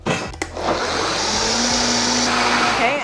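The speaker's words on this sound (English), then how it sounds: "turning on the blender is essential" A countertop blender whirs at a steady high pitch while it blends vegan pumpkin cheesecake filling, loud and close after a brief start-up clatter.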